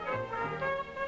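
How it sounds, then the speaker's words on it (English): A short Dixieland trumpet phrase from a small jazz band on a television show, a brief bright brassy line of a few quick notes, heard alone at moderate volume. "you back it up with one of those short brass ones, which becomes a trumpet."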